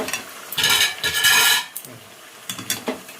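Chicken curry being stirred in a pot, with several bursts of scraping and clattering as the spoon works around the pot, separated by brief pauses and no talking.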